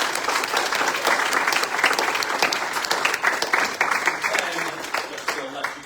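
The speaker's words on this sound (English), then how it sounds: "let's give one more round of applause for our candidates" An audience at a political candidate event breaks into sustained applause, dense steady clapping from many hands filling the room at a fairly loud level, with a faint voice underneath.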